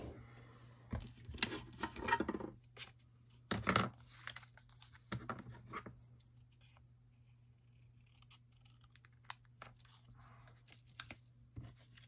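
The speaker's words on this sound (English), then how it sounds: "There's my scissors." Scissors snip through paper while making crafted cards, giving a few close, crisp cuts and rustles in the first seconds, then quieter scattered paper handling.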